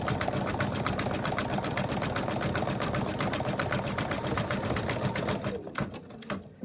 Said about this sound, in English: we're just gonna stitch the leg down now